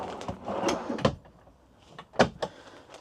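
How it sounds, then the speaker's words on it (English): A drawer in a 2025 Laika Ecovip L3019 motorhome slides open and shut with a few short knocks and scrapes, close by, with quiet pauses between the bumps. "Another drawer here."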